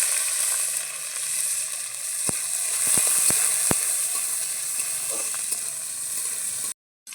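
Chopped onion sizzles steadily in hot oil in a wok, over a tempering of whole dried chilli and cumin, a continuous bright hiss with a few clicks of stirring, heard alone without talk.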